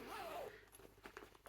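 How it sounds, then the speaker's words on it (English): A clothing zipper pulled quickly during a needlework chat indoors, a rising zip sweep in the first half second followed by soft rustling and handling noises, no talk. "oh, excuse the zip noise"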